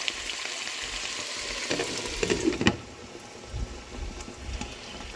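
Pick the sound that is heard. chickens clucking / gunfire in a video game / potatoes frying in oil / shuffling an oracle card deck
potatoes frying in oil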